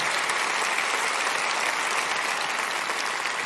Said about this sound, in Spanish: Denles un buen aplauso a Michael y Fiona Mellet.